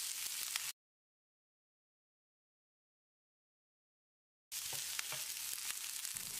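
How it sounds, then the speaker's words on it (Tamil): Steady sizzling of sliced onions sautéing in a pan for chicken 65, cut off by a stretch of dead silence before the sizzle resumes. "வெங்காயத்தை கண்ணாடி பதத்துக்கு வதக்கிடலாம்."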